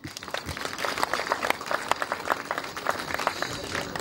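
Crowd applause at a power project launch in Mitedi, Mwakirunge, a steady patter of many hands clapping together, close and fairly loud, with a few voices mixed in.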